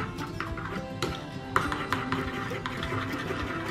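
Vegetable salad being tossed with roasted sesame dressing, giving soft repeated stirring and tapping rubs of utensils against a bowl, close and steady with a few sharper clinks and no talk.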